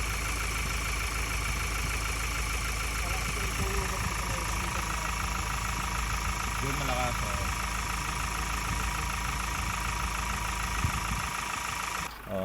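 A car engine idles noisily with blow-by, said to follow a fake oil filter, giving a steady rough, knocking drone that runs continuously at close range before cutting off abruptly at the end.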